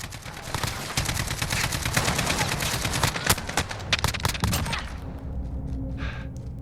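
An RPK machine gun in Call of Duty Modern Warfare fires a long, dense sustained burst of rapid shots, loud and close, then cuts off into quieter game sounds near the end.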